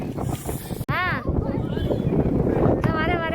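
Strong wind blows loudly and steadily against the microphone outdoors, a constant roaring rush with gusty buffeting throughout.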